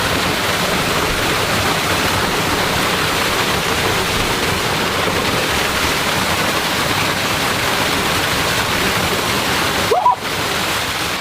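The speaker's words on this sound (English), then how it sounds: "We saw a waterfall." Tall waterfall in Chechnya roars as a loud, constant broadband rush of falling water, steady throughout with no pauses, ending with a brief bump near the close.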